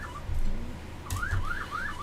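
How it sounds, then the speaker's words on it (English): An electronic alarm sound plays in a loud, repeating pattern of rising, warbling tones, a car-alarm-like siren cycling several times over a steady background rumble. "do you really need to put that alarm sound?"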